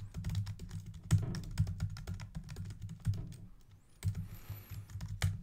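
JavaScript code being typed on a computer keyboard, a quick, uneven patter of close key clicks with a short pause near the end before the typing resumes.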